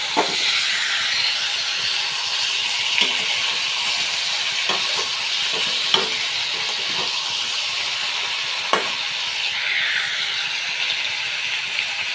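Potatoes added to chicken frying in a pan give a steady, loud hiss of hot oil throughout, with a few sharp clinks and scrapes from stirring scattered over it and no talk.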